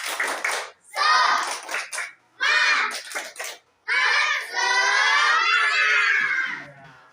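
Children shout a rhythmic 'tepuk semangat' clapping chant in bursts. Loud voices alternate with sharp clap patterns, rising into a sustained final shout that trails off at the end.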